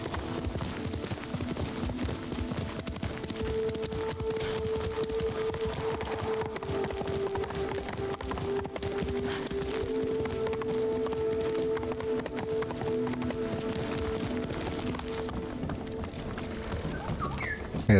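Horse hooves clip-clop at a steady gallop in the Ghost of Tsushima video game, a continuous rhythmic drumming over a low sustained in-game tone, with faint voices here and there.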